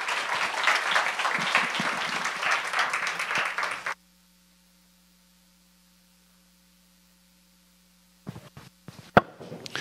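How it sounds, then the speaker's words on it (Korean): A church congregation at a Friday prayer meeting claps to welcome the pastor, a dense burst of applause lasting about four seconds before cutting to near silence and a few sharp knocks. "우리 목사님 나오실 때 환영의 박수로 환영해 주십시오"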